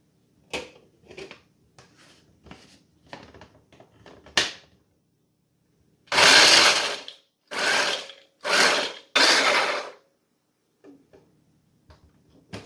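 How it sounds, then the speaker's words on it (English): Knife chopping half a cup of walnuts on a board: sparse light taps first, then four loud, dense bursts of rapid chopping, each about a second long, close and clear, with a few soft taps trailing off. "I have 1/2 cup of walnuts that I'm just going to chop"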